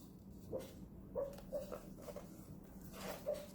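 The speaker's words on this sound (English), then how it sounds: "My doggy is sleeping, if you can hear that. He's barking in his sleep." Soft, muffled little woofs repeat every half second or so, quiet and close by, a dog barking in its sleep, over a low steady hum.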